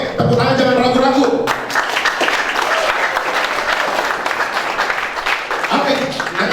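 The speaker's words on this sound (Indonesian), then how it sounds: "Oke, tepuk tangan, jangan ragu-ragu" Young people at a church youth seminar break into loud, sustained applause filling the hall, with a voice speaking over it at the start and returning near the end.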